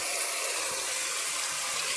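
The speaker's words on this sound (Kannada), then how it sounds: "ಸ್ವಲ್ಪ ನೀರು ಸೇರಿಸ್ಕೊಂಡು ಮಸಾಲೆ ಎಲ್ಲ ಇದಕ್ಕೆ ಸೇರಿಸ್ಕೊಳ್ತಾ ಇದ್ದೀನಿ ಒಗ್ಗರಣೆಗೆ" Water being poured into a pan of frying biryani masala, giving a close, steady hissing, rushing wash of sound that continues for the whole moment without any voices.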